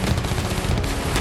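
Bursts of automatic gunfire during fighting in Ukraine crackle loudly and densely for a little over a second, a harsh continuous rattle with no voices.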